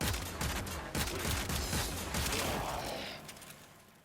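Mara Detron shotgun blasts in Warframe fire in a rapid, loud series of booming shots, then the last reports fade off into quiet.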